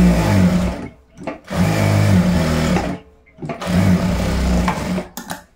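A sewing machine stitches a pocket on boys' shorts in three loud whirring bursts, each lasting about a second or more and separated by brief pauses, with small clicks between runs.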